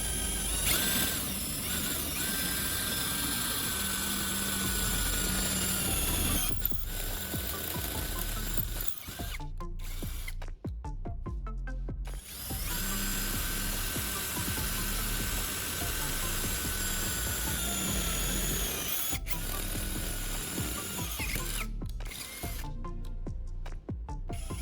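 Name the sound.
power drill with sharpened bit drilling through metal pipe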